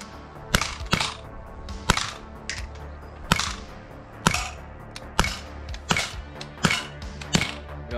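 Sharp, loud single shots from a Sig Sauer P226 CO2 air pistol, about a dozen cracks fired at an uneven pace with brief pauses between, each a crisp snap with quick decay, no talking.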